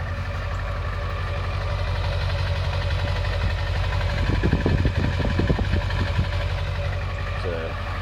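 A 7.3L truck engine idling smoothly, a steady deep rumble heard up close throughout, with a person talking over it partway through.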